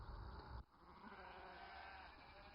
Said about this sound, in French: On peut entendre le bêlement des moutons.